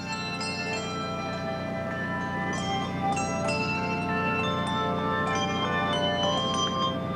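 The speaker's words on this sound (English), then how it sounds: "The English Handbell Ringers, they're here on the concourse this weekend." English handbells rung by a handbell choir on a concourse, sustained overlapping tones with repeated strikes ringing steadily throughout, moderately close.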